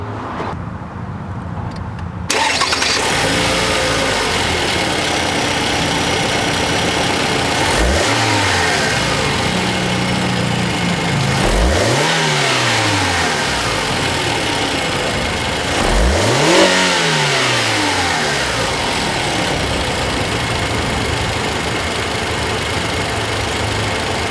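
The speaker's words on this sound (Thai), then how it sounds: "มาฟังเสียงเครื่องยนต์กัน" A Lexus ES 250 (XV60) car engine idles then revs up sharply three times, each rev rising and falling in pitch, close and loud, with no speech.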